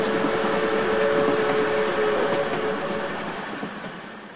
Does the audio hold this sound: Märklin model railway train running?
yes